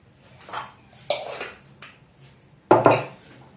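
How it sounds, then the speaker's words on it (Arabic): Manakish dough ingredients being mixed in a bowl, a few irregular scraping and clinking strokes of a utensil against the bowl, with a louder, sharper clatter near the end and quiet gaps between. "راح نخلط المكونات تاعي هكذا بهذا الشكل."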